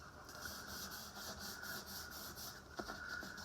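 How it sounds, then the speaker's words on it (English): Fingertips rub slowly back and forth over the sanded wooden body and neck of an LP711 kit guitar. It makes a soft, close, rhythmic brushing friction with a faint hiss and one small tap near the end. "If you rub your fingers over it, you'll feel any blemishes."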